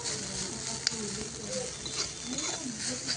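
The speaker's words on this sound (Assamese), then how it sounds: "এতিয়া চাওক, অমিতা ফুলখিনি ফ্ৰাই কৰি আছোঁ।" Papaya flowers frying in a pan, giving a steady close sizzle with light crackles and stirring scrapes throughout, without talk.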